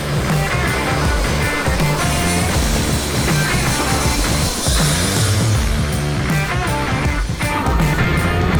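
A loud, constant helicopter engine and rotor roar with heavy low rumble and steady mechanical thrum fills the whole stretch, heard from inside the cabin without letup, flying over the King of the Hammers off-road race.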